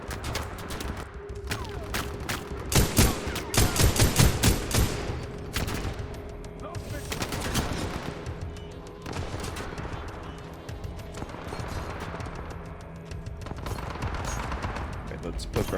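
Repeated gunfire bursts in the shooter game Titanfall 2, loud close volleys of rapid shots in clusters, with quieter gaps and background battle noise between.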